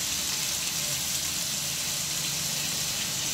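Chicken malai tikka sizzles steadily in a pan over medium gas, a continuous close frying hiss with no talking.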